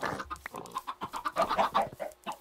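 Minecraft chickens cluck in a video game, a run of short, bright, closely spaced calls with an uneven rhythm, fairly close and loud, with no talk over them.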